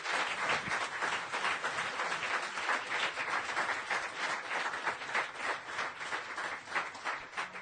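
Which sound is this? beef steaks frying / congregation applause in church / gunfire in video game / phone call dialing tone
congregation applause in church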